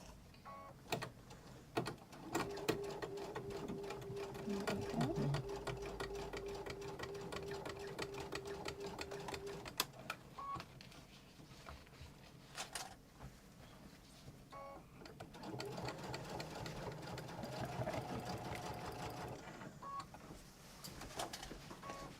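A sewing machine stitches through a Morgan messenger bag, its uneven mechanical chatter running fairly quietly for about twenty seconds with brief pauses and scattered squeaky, birdlike tones.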